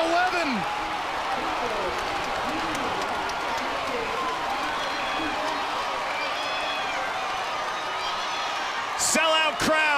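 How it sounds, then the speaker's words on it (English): Sellout crowd at a Duke versus Notre Dame NCAA men's lacrosse game roars in a steady, loud wash of cheering and whoops throughout, with a sharper burst of noise near the end. "Sellout crowd."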